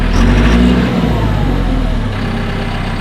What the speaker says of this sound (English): So you put her in ignition on, parking brake is already on, start, and you can control the throttle